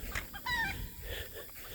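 A farm hen gives a short burst of clucking and squawking up close, brief calls over faint outdoor background.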